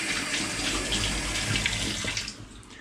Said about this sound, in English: I'm just gonna rinse off this cup because I need to use it again.